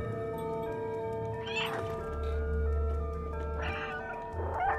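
Cat meows twice in the video game Stray, short rising cries standing clearly above a steady musical drone and low ambient rumble.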